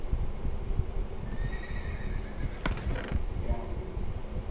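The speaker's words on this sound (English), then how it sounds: "There goes that horse laughing at me again." A Minecraft horse whinnies with a long, wavering neigh over steady background game noise, with a short burst of clattering partway through.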